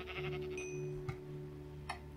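Sheep bleating in a modded blocky sandbox game, a couple of short bleats over a steady low in-game hum, fairly close and clear with no talking.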